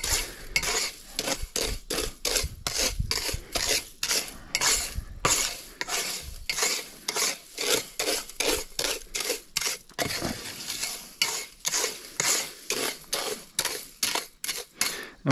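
Heated eggshells are stirred and crushed in a pan, giving a close, rhythmic series of scraping, crackling strokes that repeat steadily, with short pauses between them.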